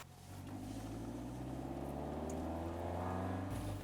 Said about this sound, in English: Now let us hear the beautiful B16A engine.